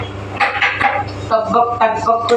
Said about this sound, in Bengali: ডাল ঢেলে দিচ্ছি